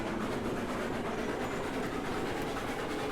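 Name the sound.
train running in the video game Railroads Online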